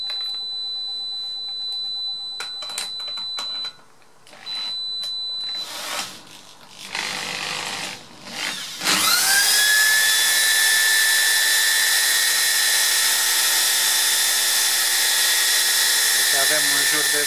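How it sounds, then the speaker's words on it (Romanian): A Makita power drill spins a water-pump motor rigged as a 1 kW, 220 V generator, rising from handling noises and brief starts into a loud, steady high-pitched whine that holds to the end. "Acum voi învârti cu o bormașină o Makita."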